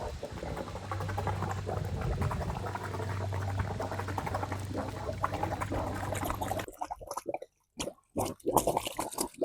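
Compressed air drives water out of a swimming pool return line in a steady bubbling, gurgling rush that suddenly breaks into choppy spurts and sputters near the end.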